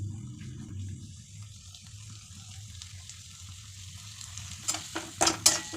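Grated paneer tossed into a frying pan for a paneer dosa topping and stirred, giving a steady low sizzle and scraping that runs throughout, then a few louder clattering knocks of the spatula near the end.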